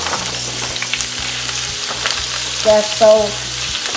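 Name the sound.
vegetables sizzling in hot oil for beef stir fry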